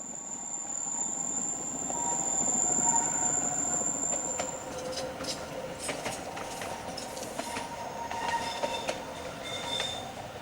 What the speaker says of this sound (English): This is one of FART's units heading back through the still air with a service for Locarno